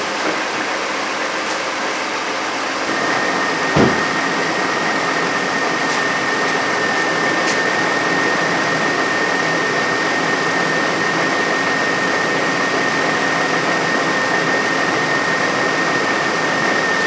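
A 2009 Toyota Avalon engine idles steadily under load from headlights, fan and rear defroster, with a constant hum and faint whine, a small click near the start, no voices.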